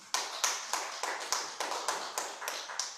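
Congregation in a Spanish-speaking church claps in a steady, even rhythm, about ten crisp claps in a row at a regular pace, fairly faint and without voices.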